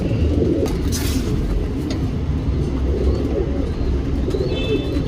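Domestic pigeon, a male Dhumal show pigeon in a fancier's loft, cooing softly and continuously against a steady low background hum, with faint bird chirps at times.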